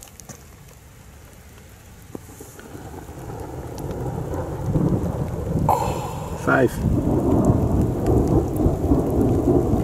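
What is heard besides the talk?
thunderstorm with thunder and rain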